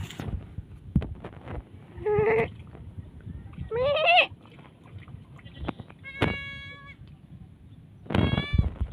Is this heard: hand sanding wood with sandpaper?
no